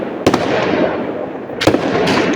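New Year fireworks display bursting overhead, with sharp loud cracks at the start and near the end over a continuous rumbling, crackling wash of explosions.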